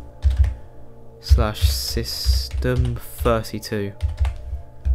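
Computer keyboard typing, clusters of quick clicks and key taps at close range, heard alongside someone speaking throughout.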